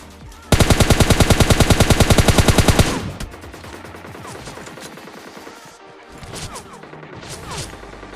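A rapid gunfire spray in PUBG Mobile Lite: a loud, fast burst of evenly spaced shots for a couple of seconds, then quieter scattered game sounds and distant shots.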